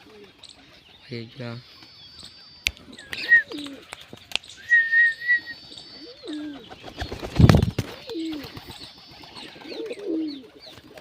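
Pet pigeons at a loft, with soft low coos and a few chirps scattered among other birds, while someone speaks in Gujarati over them.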